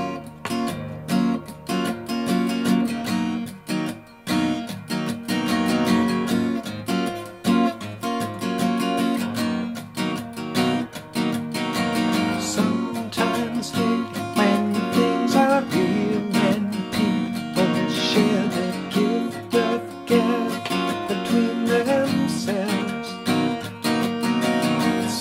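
Acoustic guitar fitted with a capo strums the two verse chords of a song, a steady rhythmic pattern played close and full for about twenty-five seconds with no talking.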